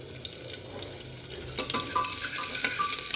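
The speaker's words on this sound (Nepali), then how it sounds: "अब म यसमा हाल्छु प्याज। प्याजलाई पनि रातो पारेर भुट्छु।" Onion frying in hot oil with chili and panch phoron, a steady soft sizzle with a few scraping stirs of a spoon against the pan toward the end, no talking.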